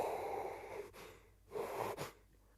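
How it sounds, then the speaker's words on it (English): A person sneezes twice, each a sharp breathy burst after a brief inhale, fairly close with a short pause between them and no talking. "Oh, I need to sneeze."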